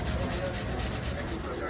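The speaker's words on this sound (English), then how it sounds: "You just kind of work your way along and you scrub that line off that you missed" A green scrubby pad rubs steadily back and forth across a surface in a continuous close, dense scrubbing hiss.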